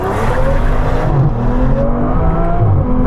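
An Aston Martin V12 Vanquish on winter tyres launches hard, its V12 roaring loud and close as revs climb steadily under sustained full throttle.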